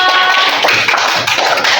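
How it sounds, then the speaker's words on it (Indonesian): Fourth-grade pupils in an elementary school classroom clap for a classmate who answered correctly: loud, close, continuous applause from many hands, dense and unbroken throughout. "Wow, tepuk tangan untuk Citra."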